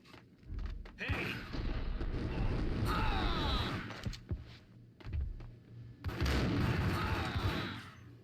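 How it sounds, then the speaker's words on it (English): Heavy shotgun blasts from the game Max Payne, a few loud booming shots with thudding impacts scattered through a busy, noisy action scene. "the shotguns in this game do not fuck around"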